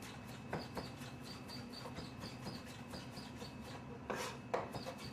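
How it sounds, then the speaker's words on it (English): Quiet, repeated knife strokes chopping onion and garlic on a cutting board, soft sliding chops in an irregular rhythm, with a few sharper taps near the end. "when I chop, I do this sliding, so instead of being smashed, they will be cut."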